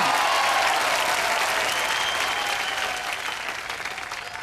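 Loud, dense applause from a comedy show audience as a woman is called up on stage, a steady wash of clapping that tapers slightly toward the end.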